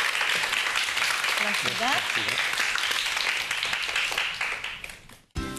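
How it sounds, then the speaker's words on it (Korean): Dense, steady audience applause fills a televised lecture hall after a talk on intelligent cars, fading toward the end as a voice speaks briefly over it. "여러분 큰 박수 부탁드리겠습니다"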